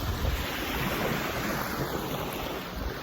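Sea waves break on a beach at Chornomorsk in winter, a steady, loud rushing wash mixed with heavy wind buffeting the microphone.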